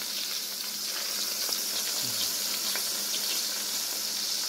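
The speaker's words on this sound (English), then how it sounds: "So it's searing up real nice." A strawberry grouper fillet sears in a pan over medium heat, giving a steady, close, fairly loud sizzle with a few faint clinks underneath.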